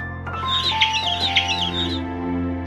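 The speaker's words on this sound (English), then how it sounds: "These chickens are awesome." Chickens clucking on a farm, a close, steady run of bright clucks and short calls over a low background hum, no voices.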